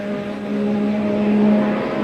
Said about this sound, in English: engine still sounds absolutely fine as he went past us then